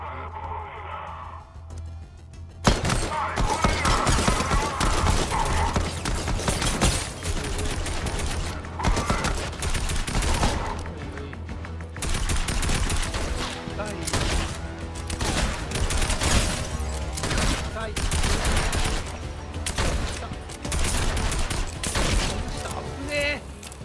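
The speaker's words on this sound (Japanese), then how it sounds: "いやでも銃声音が聞こえたから" Rapid bursts of gunfire from the video game Fortnite crackle loud and close, with repeated volleys and brief pauses over game sound effects and a player's occasional voice.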